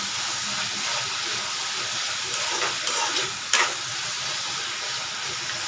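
Tomatoes with salt sauté in a pan, a dense steady hiss of frying that stays even, with a couple of brief brighter stirring bursts near the middle and no speech.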